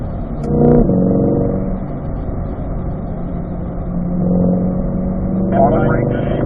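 A 2020 Corvette C8 engine revs and accelerates on a race track, a loud continuous drone that climbs in pitch through the gears, partly beneath a driver's spoken commentary.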